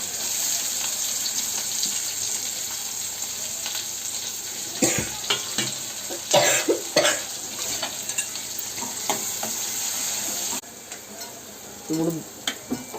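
Onions and green chillies frying in oil for egg biryani give a steady, loud sizzle, broken midway by a run of sharp spoon scrapes and stirring knocks, then a brief quieter stretch with a few more clatters.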